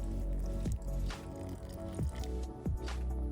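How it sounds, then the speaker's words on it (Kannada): Water goes into a bowl of gram flour mixed with turmeric and salt outdoors. It makes three soft, close, wet squishing splashes a second or so apart against a quiet background. "ಕಲಸಲಿಕ್ಕೆ ಬೇಕಾದಷ್ಟು ನೀರು."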